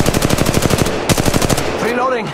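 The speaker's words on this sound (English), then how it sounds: "They're shooting at me!" Rapid automatic gunfire in a sci-fi battle royale video game firefight, a fast rhythmic burst of loud shots that pauses briefly and resumes, followed by a descending whooshing effect.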